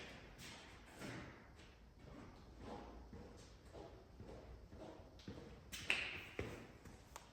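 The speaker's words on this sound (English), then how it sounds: "This will go in my little template panel drawer." A template panel is put away in a shop drawer, giving a series of light taps, thuds and sliding knocks spaced irregularly, with a sharper clack near the end, close and fairly quiet.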